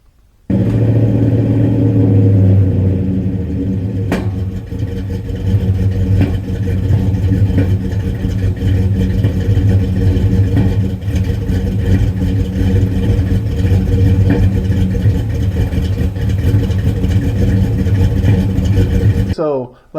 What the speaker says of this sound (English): It's a sound that's coming, you know, somewhere around the collector H-pipe area.